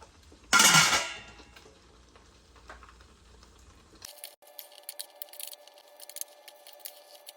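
Green bean casserole goes into an 8 by 8 inch pan with one loud, brief scraping plop, then a run of light clinks and taps from utensils against the dish.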